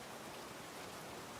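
Heavy rain ambience from Aliens: Dark Descent, a constant loud wash of rainfall that stays uniform throughout and cuts off abruptly at the very end.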